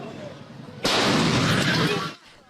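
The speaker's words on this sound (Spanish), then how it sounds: "esta explosión que se escuchó a 10 cuadras a la redonda alarmó a los habitantes de La Garzota" A car exploding on a street in La Garzota, Guayaquil, at night among commercial premises, a sudden loud broadband blast that roars for over a second before dropping away, preceded by a quieter street background.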